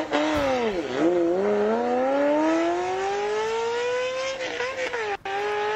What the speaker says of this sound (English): It's a jet engine.